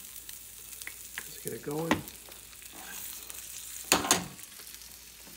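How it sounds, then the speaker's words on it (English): Chouriço sausage sizzles faintly in a hot oiled pan, with soft stirring scrapes and a brief burst of crackling, under a few spoken words. "put it in a hot pan over here, get that going. That's enough of that. Hit it with some oil."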